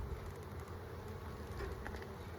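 Bees buzz around someone outdoors among pollen-laden flowers, some landing on their legs, giving a faint, steady, low hum that drifts near and far with no voices.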